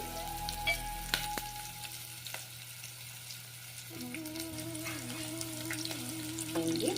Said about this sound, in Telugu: అటు ఇవి బాగా ఎర్రగా వచ్చేదాకా వేపాలి